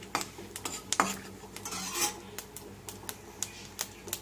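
Dried curry leaves frying in a pan for peanut chutney, with faint crackles and a series of light scraping, tapping strokes from a spoon stirring against the metal, fairly quiet and irregular.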